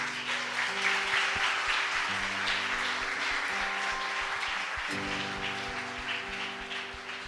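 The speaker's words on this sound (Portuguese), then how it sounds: "Vamos aplaudir Jesus?" Church congregation at a Baptist service applauding for several seconds, a dense continuous clapping wash with sustained keyboard or organ tones underneath.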